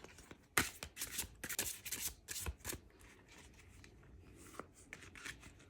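Oracle or tarot cards are shuffled by hand, a soft, close riffling and rubbing in uneven bursts that fade to lighter shuffling, quiet overall with no voices.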